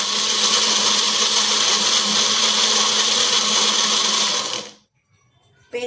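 A kitchen blender purees papaya into a smooth paste for fruit halwa. Its loud, steady whir runs for about four and a half seconds, then cuts off into near silence before a faint noise returns at the end.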